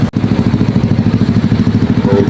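A Yamaha Aerox 155 ABS scooter engine idling close by, a steady rapid low thumping pulse after a brief knock at the start, running alone without talk.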